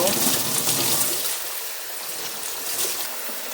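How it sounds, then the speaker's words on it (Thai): Warm water runs and splashes steadily over freshly picked salad greens being rinsed, a close, continuous gush that softens slightly partway through. "ล้างด้วยน้ำอุ่นนะคะ"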